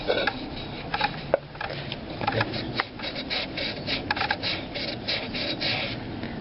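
Steel wool soaked in acetone scrubs an engine crankcase half, producing close, uneven rasping strokes with scratchy bursts and small knocks.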